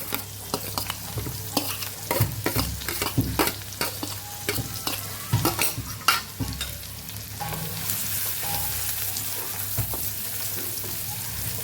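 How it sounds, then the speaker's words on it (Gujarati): Onion hits hot oil already seasoned with cumin and asafoetida, giving a loud, close sizzle broken by repeated stirring scrapes and clatters, then easing into a steadier fry. "અહીં આપણે ડુંગળી પણ ઉમેરી દઈશું"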